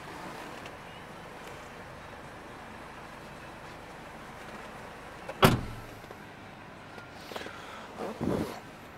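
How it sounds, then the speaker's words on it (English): Electric window motor on a Vauxhall 2.0 CDTi Sportive crew cab diesel pickup whirs briefly after a sharp clunk, with a couple of short motor bursts over steady low background noise. "Electric window, electric mirrors."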